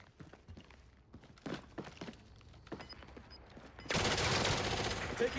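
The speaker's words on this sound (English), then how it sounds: "Taking fire here." Call of Duty: Warzone battle royale with scattered, fairly distant single shots and footsteps, then a sudden loud, sustained volley of automatic gunfire close by that runs to the end.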